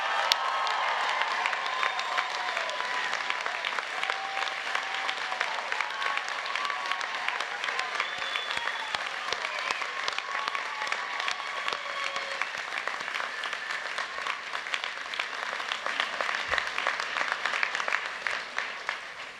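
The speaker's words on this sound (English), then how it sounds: "can you join me in an enthusiastic and thunderous round of applause" A large graduation audience at a UTS Faculty of Health ceremony breaks into sustained, dense applause that stays loud and even throughout, with scattered cheers and whistles woven through the clapping.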